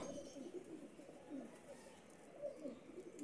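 Red-eyed Teddy golden breeder pigeons coo softly and repeatedly in a low, throaty rhythm, faint and close under light background hiss.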